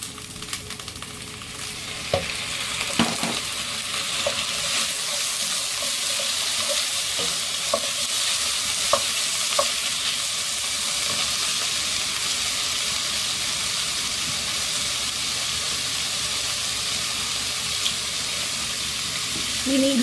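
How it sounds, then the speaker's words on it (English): Canned pinto beans are rinsed under running kitchen water, a steady close hiss and splash lasting many seconds with small clinks on top. "You have to rinse off the beans"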